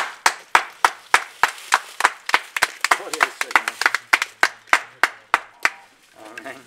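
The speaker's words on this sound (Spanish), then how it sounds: "Démosle un aplauso a Dios." At the close of a Spanish-language church service, the congregation claps together in a steady, even beat of about two dozen crisp, unison claps. Voices call out briefly partway through, and a speaker talks as the clapping ends.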